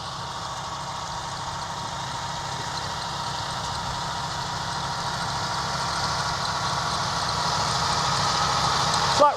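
A tractor pulls a reseeding machine across a grass field, mixing and whisking the soil while a roller packs it behind. It makes a steady engine drone with mechanical rumble that grows slightly louder as it approaches.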